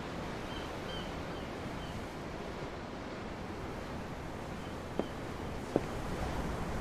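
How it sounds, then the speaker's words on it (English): Steady broadband ocean surf in the video game Tales of Arise, heard from aboard a ship: a continuous wash of waves with wind, fairly even in level, with two faint brief knocks near the end and no talking. "The ocean? Yeah. The waves."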